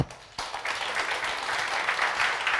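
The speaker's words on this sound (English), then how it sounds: "So, a little bit of applause to Ukraine, Moldova, American Enterprise Fund." Audience applause at a live startup demo day in Kyiv, a sustained wash of many hands clapping that swells in after a short pause and carries on steadily, moderately loud and fairly close.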